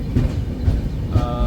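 The 12416 Indore Intercity passenger train rolls along the tracks on a rainy morning, a loud, close rumble with rhythmic clickety-clack of wheels over rail joints and a brief metallic squeal near the end.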